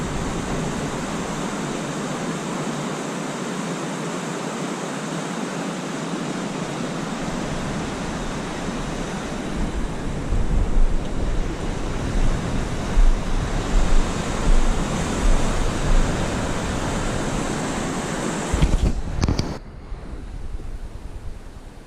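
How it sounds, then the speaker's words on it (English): Illilouette Creek in Yosemite running at unusually high flood flow, a steady loud roar of rushing water with no talk and a brief handling bump near the end. "So this is Illilouette Creek. This is a raging river in Oklahoma terms."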